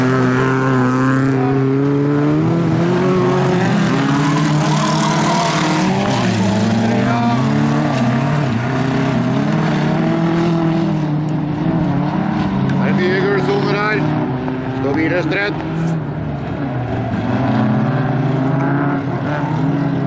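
Bilcross race cars roar loudly and continuously through a final with three cars left, engines droning and shifting pitch as they pass close by. A commentator talks over the engine noise.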